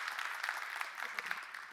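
Audience applause for a presenting team at a university event, a steady wash of clapping from a seated crowd, moderately loud and continuous throughout with a few sharper claps standing out.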